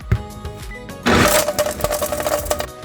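A kitchen blender crushes pepper soup ingredients, starting after a second of quieter clattering and whirring into a loud, steady grinding buzz that holds to the end.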